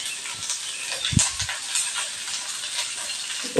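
Mustard seeds and urad dal sizzle in hot oil with a steady, bright hiss, punctuated by a few soft knocks and light spatters near the start, with no talking.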